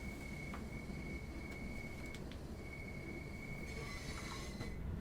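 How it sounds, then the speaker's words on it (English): A train rolls slowly through a train wash in Train Sim World 2020 on the Peninsula Corridor, under a steady loud rumble with a sustained high squeal and scattered clanks and clicks. "We got our train going through the train wash."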